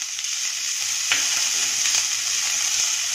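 Chopped onion hits a pan of ginger and garlic paste over a low gas flame for a finger millet soup, giving a steady, close frying hiss with a few sharp crackles and spatula clicks.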